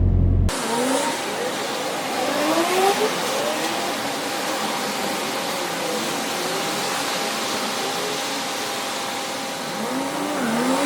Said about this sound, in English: I'm just waiting for the car to warm up now